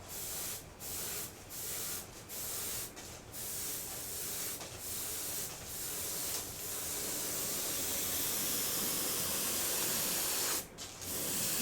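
Short hissing bursts of a spray can, several quick sprays in a row, then one long continuous spray, close and fairly loud.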